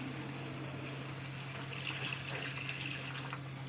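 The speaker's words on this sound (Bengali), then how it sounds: "এবার আমি জল দিয়ে দেবো।" Water pours into a pot of fish curry with taro and potato, a faint, steady splashing stream over a low hum, with no talk.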